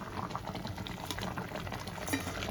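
A pot of fish curry gravy with tengra fish, potato and tomato boils vigorously, a dense steady bubbling and popping that continues throughout at close range.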